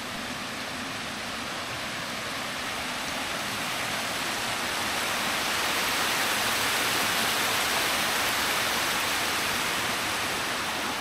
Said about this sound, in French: Ça c'est le Flavion, ce petit cours d'eau, enfin petite rivière.